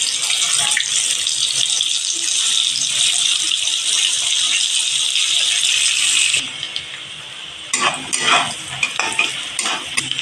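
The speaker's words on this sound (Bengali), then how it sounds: "দিয়ে দিচ্ছি পেঁয়াজ কুচি" Chopped onion hits hot white oil in a wok and fries with a loud, steady hiss, then stirring breaks the sizzle into uneven scraping bursts, close to the pan.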